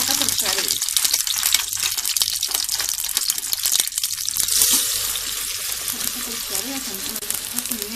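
Vermicelli frying in butter in a pan while rice is prepared: a loud, continuous close-up sizzle and crackle that holds steady throughout, with a voice faintly present in the background.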